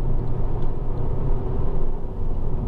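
A Honda Civic 1.8 i-VTEC EX five-door pulls past another car, with a steady, close engine and road rumble heard from inside and no talk.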